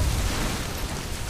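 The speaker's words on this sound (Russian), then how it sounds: "Сейчас катсцена будет с взрывом." A cutscene explosion in the Mafia 2 video game, heard as a loud, sustained low rumbling roar with no clear onset, filling the whole moment alone without speech.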